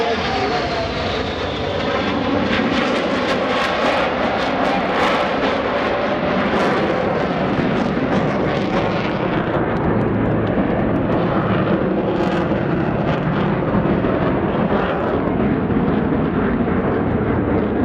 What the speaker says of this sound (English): each pilot will perform an individual brake turn and exit the flight line in a separate direction